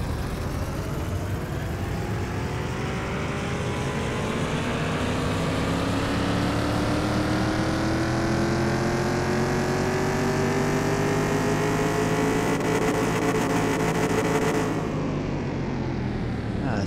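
A burnt orange Plymouth Road Runner with a 791-horsepower engine revs in a Car Mechanic Simulator 2021 drag race, one loud continuous rising engine note climbing in pitch before cutting off abruptly near the end.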